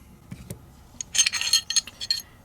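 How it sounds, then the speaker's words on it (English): Metal parts of a Taurus G3 pistol clicking and scraping as the slide is pulled off, a few sharp ticks followed by a dense cluster of close, bright metallic clinks and rattles. "Push down on the takedown tabs, pull the slide right off."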